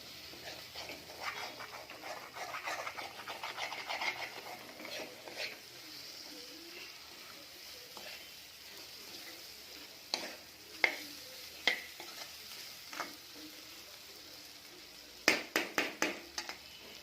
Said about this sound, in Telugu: అడుగంటకుండా మధ్యలో బాగా గోక్కుంటూ ఉండండి.